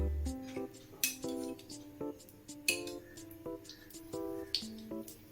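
Oil drizzled from a small vessel into each well of a nonstick kuzhi paniyaram pan, giving a run of light metallic clinks and taps spaced across several seconds, close and fairly quiet with no talking.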